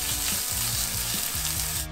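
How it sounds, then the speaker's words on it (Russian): Steady sizzling and crackling of chopped celery frying in a hot pan, with faint scraping as it is stirred, close and continuous. "Отправляем сельдерей на сковородку и тоже немного обжариваем."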